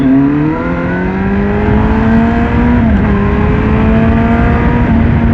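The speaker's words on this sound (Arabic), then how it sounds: "البايك اللي انا راكبه ده العلبه اللي فيه ستوك، والصراحه صوتها جميل." A close, loud 2010 Baby King motorcycle engine drones steadily with a smooth rumbling stock exhaust, its pitch shifting slightly as it revs and holds.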